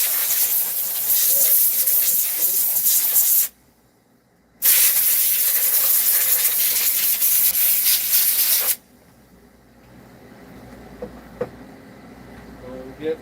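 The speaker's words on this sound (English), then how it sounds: "Get my little dirty sander out. This thing's had a life." A small, well-worn electric sander works over carved wood, giving a loud steady hiss that runs for several seconds, cuts out briefly, starts again, then stops, leaving quieter room sound.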